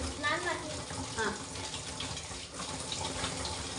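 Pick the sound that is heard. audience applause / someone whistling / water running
water running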